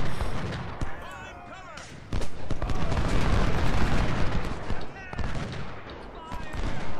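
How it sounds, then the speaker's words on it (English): Massed rifle fire in the Civil War strategy game Ultimate General, at the Battle of Thoroughfare Gap: dense, crackling volleys and scattered shots with heavy booms, loud and sustained, building to a thick barrage before easing slightly. "rifle fire there"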